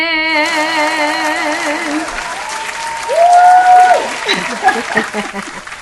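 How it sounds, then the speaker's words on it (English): Audience applause at a coaches' conference greets a speaker being introduced, a steady wash of clapping with cheers and voices mixed in, swelling briefly near the end. "let's give a round of applause for Dr. Latanya Jackson"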